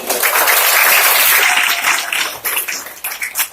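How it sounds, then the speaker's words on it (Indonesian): At an exclusive Islamic study gathering held at the PT Sepatu Bata factory in Jakarta, an audience breaks into loud, close applause that holds strongly, then thins into scattered, uneven claps. "Tepuk tangan dong."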